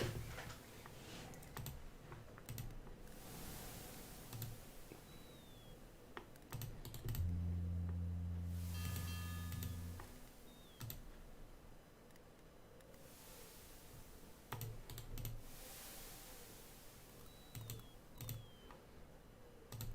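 Sparse keyboard or mouse clicks while moving through a computer adventure game, faint and scattered over a quiet hiss, with a brief game tone in the middle.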